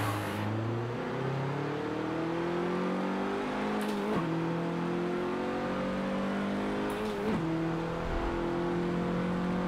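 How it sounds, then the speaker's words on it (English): A race car engine in a simulator racing game drones steadily and climbs in pitch through the gears, with two sharp upshifts that briefly break the whine before it rises again, loud and continuous. "Did you hear my car broke free again going into third gear?"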